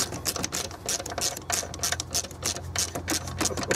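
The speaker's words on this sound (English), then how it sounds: "It's slightly awkward to crack it with the ratchet." Ratchet clicking while cracking loose a spark plug on a 2009 Nissan Qashqai 1.6 petrol engine, a rapid run of close, crisp metallic ticks repeating steadily throughout with light mechanical rattle underneath.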